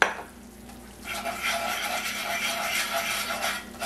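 A whisk scraping and swishing through a cooking roux for gumbo, with a soft continuous stirring rasp that starts after a brief quiet moment and holds steady, close to the ear.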